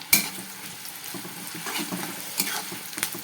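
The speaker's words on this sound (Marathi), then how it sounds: "आता ते मेल्ट झाले त्याच्यामध्ये आपण कांदा टाकून घेणार आहोत" Onion drops into a pan of melted ghee and oil and starts frying, with a soft crackling sizzle and light stirring scrapes after a sharp initial sound, close and moderately quiet.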